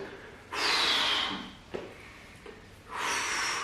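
During a Superman back exercise, a person takes loud, close breaths: a long forceful exhale, a short catch of breath, then another strong exhale, all breathy and nearby with no talking.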